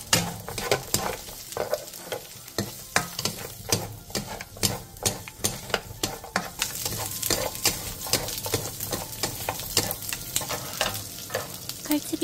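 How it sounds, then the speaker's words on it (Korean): Vienna sausages and garlic stir-fried in oil on high heat in a pan, a constant crackling sizzle broken by a rapid run of rhythmic spatula scrapes, close and loud. "팬에 기름을 두른 뒤 비엔나 소세지와 마늘을 넣고 센 불에서 볶아주세요."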